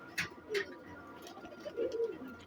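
Live pigeon, a white fancy kabootar with blue eyes, cooing in a few soft throaty bursts at close range under faint background chatter.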